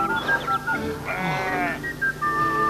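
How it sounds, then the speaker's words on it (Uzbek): Several lambs bleat in short, wavering cries, one after another in close succession, near and clear, with no talk over them. "mana u qo'zichoqlarni qara"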